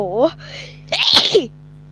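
A single sharp, loud sneeze, with a brief intake of breath before the burst, set among short voiced sounds from a Subway Surfers game.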